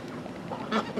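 Pet ducks quacking nearby in short, close calls, with a louder burst near the end over a low background murmur.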